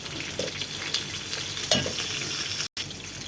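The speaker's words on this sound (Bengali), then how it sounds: "আমি এখন লাল শাক এখানে দিয়ে দিচ্ছি" Red amaranth greens tumble into a pot of simmering lentil dal with dried fish and get stirred, giving a steady close sizzle with a soft rustle partway through and a brief cut near the end; no talking.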